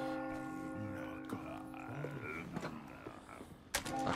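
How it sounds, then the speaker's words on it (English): A church bell tolling in Resident Evil 4, a sustained ringing tone fading over the first seconds with creaks and clatter, then a sharp loud hit near the end. "Oh, thank God, the bell!"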